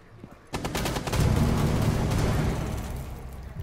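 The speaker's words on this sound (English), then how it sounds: "I'm gonna shoot you." Gunfire in the tactical shooter Rainbow Six Siege: a rapid burst of automatic shots starts abruptly, then fades into a dense roaring rumble, fairly close.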